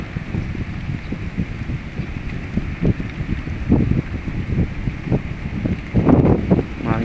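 Strong wind at sea roars and buffets continuously while fishing with nets, with gusting, rumbling bursts building toward the end.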